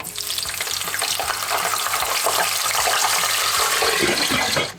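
Potato strips for French fries bubble and sizzle vigorously in hot oil, a loud, dense crackling hiss that holds steady before stopping abruptly at the end.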